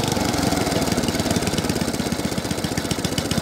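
Small single-cylinder lawn mower engine idling after a carburetor repair, a steady rapid chugging pulse with an even knocking rhythm, close and moderately loud with no talk.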